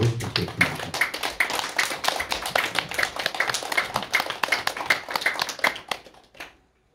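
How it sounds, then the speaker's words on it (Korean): Church congregation clapping at a Sunday worship service to welcome the pastor, a dense, steady patter of many hands that carries on for several seconds before tapering off into silence. "우리 목사님 나오실 때 박수로 환영하도록 하겠습니다."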